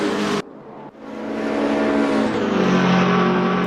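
Race cars roar past in a racing video game, one a black and white BMW, with a sharp cut and then a loud, rising engine drone as a car closes in and holds its pitch.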